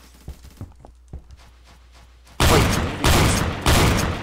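Three loud, booming shotgun blasts in the Roblox game Phantom Forces, evenly spaced and close, following a stretch of quiet footsteps and light clicks.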